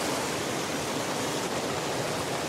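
Stream water pouring steadily through a pipe into a trout hatchery, a constant dense rushing wash with no breaks, close and loud throughout.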